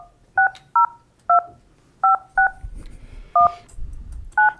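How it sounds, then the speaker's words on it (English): Touch-tone telephone dialing during a council meeting, as a phone number is keyed in to reach an attorney: eight crisp, loud dual-tone beeps at uneven intervals, with faint room noise between them. "asking us to dial her on the phone"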